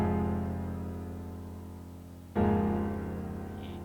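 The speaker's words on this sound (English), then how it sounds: "What I'm trying to say about the chords being played too low is that they could sound really muddy" Muddy low supersaw synth chords in FL Studio hold as a dense, droning chord that fades gradually before another chord hits abruptly and sustains, thick and murky in the bass.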